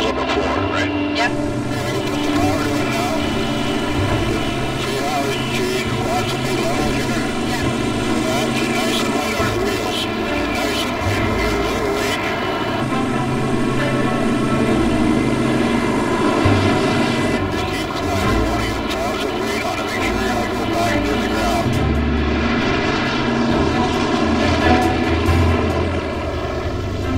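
A small propeller plane's engine drones steadily and loudly from inside the cabin for the whole stretch, a continuous hum with no break. Voices can be heard talking faintly under it.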